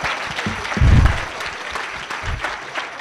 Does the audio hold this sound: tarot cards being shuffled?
no